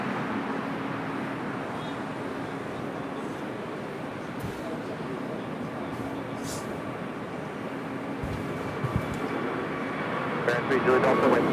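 An airliner taking off at Los Angeles LAX, its jet roar a broad, steady rush that swells slightly toward the end, heard at a distance, with someone talking over it throughout.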